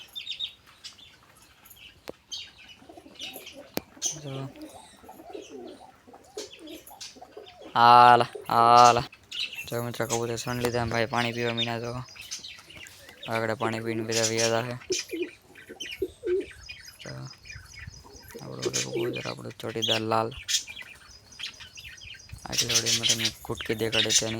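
Pigeons coo in repeated rhythmic phrases close by, interspersed with chirps, soft rustling and someone talking between the calls.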